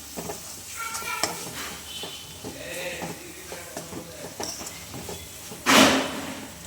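Spice powders and ginger-garlic paste fry in a pan for chicken gravy. A low sizzle runs under repeated spoon scrapes and stirring, and a sharp clatter is heard near the end.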